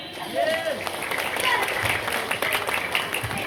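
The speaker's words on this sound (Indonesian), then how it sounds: "Minta tepuk tangannya dong." Applause from a neighborhood audience at a comedic Islamic sermon, steady close clapping for a few seconds mixed with crowd voices.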